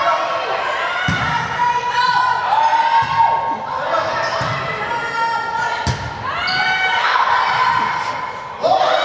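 Spectators shout and cheer a player's name at a girls' JV volleyball semifinal in a school gym, a continuous crowd roar with several sharp ball thumps and slaps cutting through.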